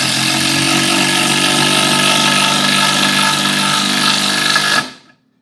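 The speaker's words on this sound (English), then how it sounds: "then drill those right in" A power drill whirs loudly and steadily for nearly five seconds, up close, as it drives screws, then winds down and stops.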